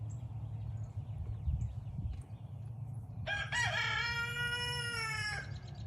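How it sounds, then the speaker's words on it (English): A rooster crows loudly partway through, a long drawn-out call rising over a quieter backyard full of chickens clucking and rustling in the background. "that brings us to the rooster"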